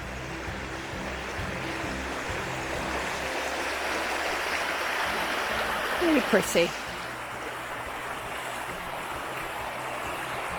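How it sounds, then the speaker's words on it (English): A fast-flowing river in Finland rushes with a steady, even roar throughout, and a voice speaks briefly over it midway. "It takes you down to quite a fast flowing"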